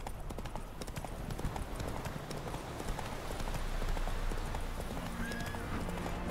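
Horse hooves clip-clop steadily during a ride across the countryside in The Witcher 3: Wild Hunt, a continuous rhythmic trot over ambient outdoor sound, with a brief whinny near the end.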